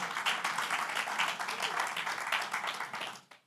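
Congregation clapping in praise during a church service, a steady dense wash of applause that holds for about three seconds and then stops abruptly.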